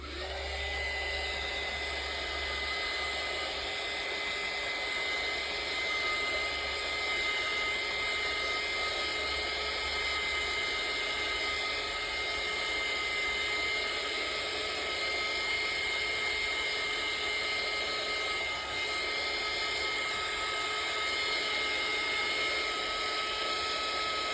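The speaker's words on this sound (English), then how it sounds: "So I'm going to go off camera and dry this so it's not quite as noisy." A hair dryer blows steadily on a card painted with water-based markers, a constant loud whirring hum with a high whine that holds unchanged throughout, with no talking.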